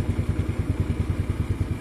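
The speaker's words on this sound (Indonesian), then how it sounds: "motor udah nyala" A Yamaha Mio scooter engine idles steadily after a broken carburetor vacuum hose was replaced, a close, even putter with a rapid regular pulse and light mechanical clatter, no talking.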